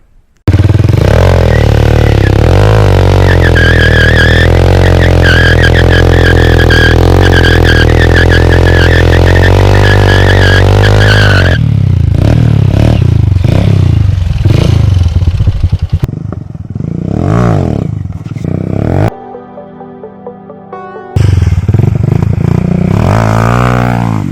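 A modified Honda XR 125 motorcycle revs loudly and continuously during wheelie practice, its engine note rising and falling close by, then breaking into choppy bursts, brief drops and clattering before roaring again.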